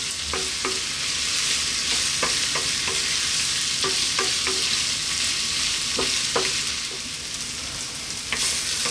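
Onions frying in a pan for biryani give a continuous close sizzle, punctuated by regular knocking taps of a spoon stirring against the pan, with no speech.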